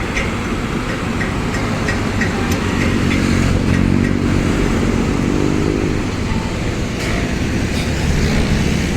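A water pump engine runs at a Pasig River esplanade flood control site, giving a steady, loud mechanical drone with a constant low rumble that holds throughout, with no voices.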